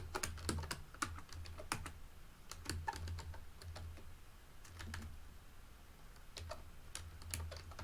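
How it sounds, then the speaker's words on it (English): A worn, noisy computer keyboard clatters nearby in irregular bursts of quick keystrokes, separated by short pauses, with no talk. "Pardon my typing, my terrible keyboard,"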